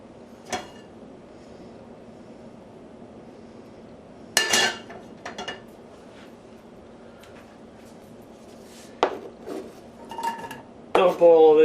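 Ingredients for crowder peas and rice dumped into a good-sized pot with olive oil, heard as scattered metallic clanks and clinks of utensils against the pot, with a louder clatter near the end over a quiet background.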